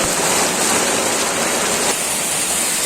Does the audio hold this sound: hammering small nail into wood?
no